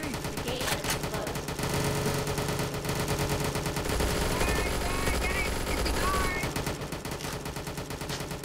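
Rapid automatic gunfire in the VRChat video game during a Halloween prison escape, dense sustained bursts filling the whole stretch, loud and continuous, with faint voices underneath.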